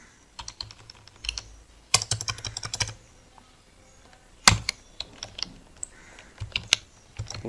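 Keys clatter on a computer keyboard while typing PHP code, in quick close bursts of clicks broken by short pauses and one sharp louder keystroke.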